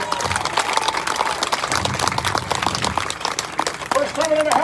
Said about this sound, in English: So how about a round of applause for our fabulous families and parents?